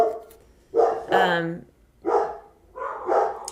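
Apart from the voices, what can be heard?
dogs barking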